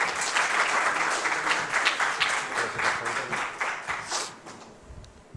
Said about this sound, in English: Mr. Amir Sajjad, please round a big applause